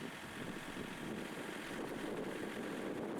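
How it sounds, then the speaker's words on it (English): Gusty wind blows across a microphone outdoors on a windy day, a dense, steady rushing roar with low rumbling buffets, moderately loud and continuous, with no speech. "Sorry about the wind. It was a windy day."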